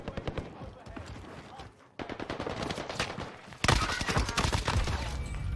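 Rapid bursts of automatic gunfire from a Bren and MP40 in a shooter match on the Caldera map, close and loud in repeated volleys with scattered single shots, while a player talks over it.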